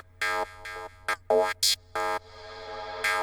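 Psytrance synth lead playing a short phrase of separate bright, harmonic notes, given extra bite by subtle phaser and flanger effects, loud and alone with no talk.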